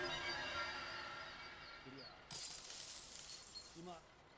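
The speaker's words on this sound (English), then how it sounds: "That's the sound of incoming money that you can earn more by completing any quests." Coins jingle as money comes in during The Good Life, a video game, a bright shimmering clink that starts abruptly midway and carries on steadily under faint game background sounds.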